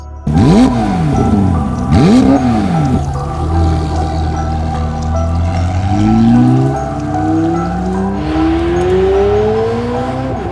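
A McLaren 750S supercar's engine revving loudly and close: two sharp rising-falling blips, then a long climbing acceleration with pitch sweeping upward through the gears, ending in a lower steady drone.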